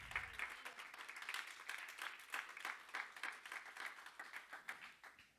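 A church congregation claps together in steady, dense applause, loud and close, with brief rhythmic peaks throughout and no voices standing out.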